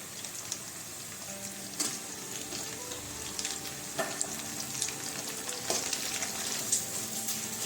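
Onions and tomatoes sizzle and fry in a pan for capsicum curry, with a steady crackle and occasional stirring scrapes and clinks, close and alone.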